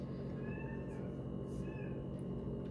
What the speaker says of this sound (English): My cat Parlay has been stressing me the hell out